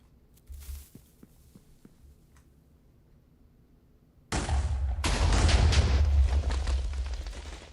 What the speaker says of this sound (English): Explosion number 2, which I want to do mainly to this front half.